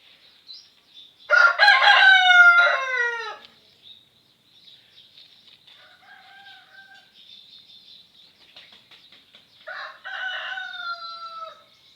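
A rooster crows loudly nearby on a rural Thai plot with lime trees, one long cock-a-doodle-doo followed by quieter distant crows and a second crow at the end, with some faint clucking.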